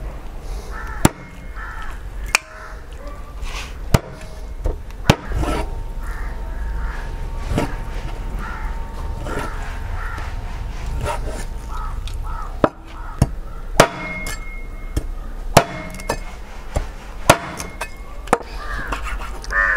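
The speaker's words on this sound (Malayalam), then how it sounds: "നമുക്ക് മട്ടൻ കട്ട് ചെയ്തെടുക്കാം" Mutton with bones chopped into pieces, sharp cleaver strikes landing at irregular intervals over a low background hum, some hits spaced out and others in quick pairs.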